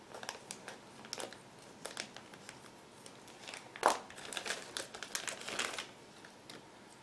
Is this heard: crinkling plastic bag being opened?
yes